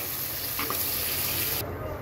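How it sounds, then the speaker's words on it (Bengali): Drumsticks (sajna) lightly frying in a kadai of oil, a steady close sizzle with a brief soft stir partway through. "সাজনাগুলো কিন্তু হালকা ভেজে নিয়েছি, এখন আমি তুলে নেব"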